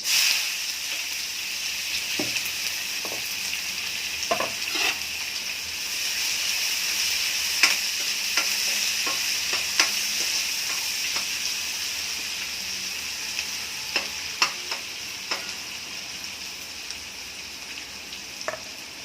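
Onion, asafoetida and curry leaves fry in hot oil in a pan, making a continuous steady sizzle with scattered pops and crackles that grow more frequent in the second half, with no voices.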